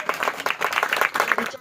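A church congregation claps in quick, uneven bursts for a short moment, loud and close, with voices mixed into the applause.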